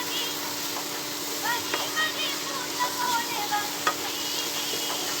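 White kurma stirred in a pan over a steady frying hiss, with a few soft scrapes and clinks of a spoon, while a voice talks throughout.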